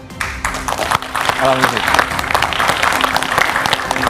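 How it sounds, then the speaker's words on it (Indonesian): Studio audience applauding a guest on an Indonesian political talk show, a dense steady burst of clapping with crowd noise, sustained and fairly loud for about four seconds, with a voice also present. "Tepuk tangan yang meriah untuk narasumber saya, Taufik Basari"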